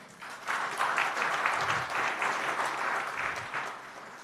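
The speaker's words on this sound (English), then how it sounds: "A round of applause to all of them." An audience applauds at a Penang heritage brands event after an official speech, with a steady round of clapping that swells and then tapers off, at moderate distance.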